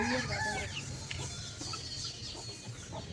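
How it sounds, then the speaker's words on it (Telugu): Chickens cluck steadily over a constant background hum, with a few clearer clucks standing out near the start. "కోళ్ళు ఉన్నాయి కోళ్ళని చూస్తుంది"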